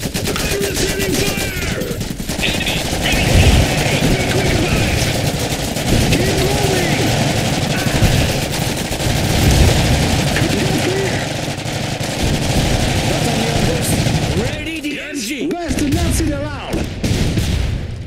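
Sustained machine gun fire rattles through an Iron Harvest skirmish in the Restless Woods, mixed with booms and artillery and overlapped by clipped unit voice lines for most of its length.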